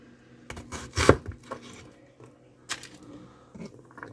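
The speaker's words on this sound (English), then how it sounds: "Just mincing the onion." A knife minces a strong onion on a cutting board at home, giving sharp, irregular chopping knocks that come in bursts and leave quiet gaps between them, close to the listener.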